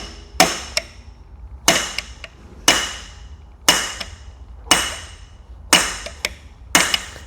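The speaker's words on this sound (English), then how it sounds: "So I'll just take a punch right in the center of the end of the shaft there." A punch hammered against the end of a seized shaft during a Tesla large drive unit rebuild, six sharp metallic strikes at a steady rhythm, each with a brief ringing decay.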